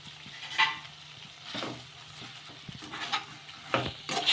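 Vada mixture with coriander stirred in a pan: scattered scraping strokes and soft sizzling, a few sharper spoon scrapes standing out, close and moderate in level.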